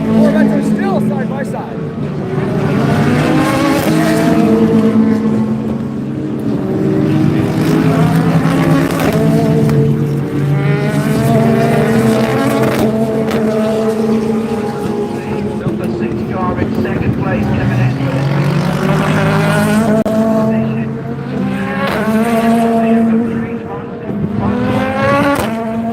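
GT race cars, including Corvettes running side by side, roar past during the Rolex 24 at Daytona, engines rising and falling through gear changes under continuous commentary from a race announcer.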